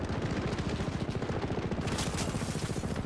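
Rapid automatic gunfire in Call of Duty: Modern Warfare (2019), a dense, fast stream of shots rattling without pause, steady and fairly close.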